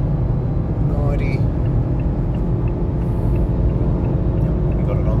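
A Mazda CX-5 Carbon Edition with a 2.5-litre petrol engine, AWD and automatic gearbox cruises at around 100 mph, giving a constant loud cabin drone of engine and road rumble while people talk over it.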